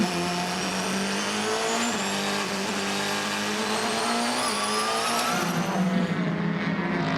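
Race cars at the 2016 FIA WEC 6 Hours of Nurburgring howl past in a loud, continuous engine wail, with rising and falling pitch as they run close together.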